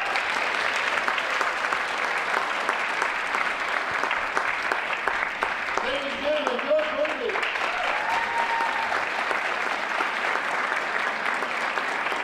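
Audience applause greeting the Trotter Jazz Band at a high school jazz night, a dense, sustained wave of clapping from a full crowd that runs steadily throughout, with a few brief voices and whistles rising over it.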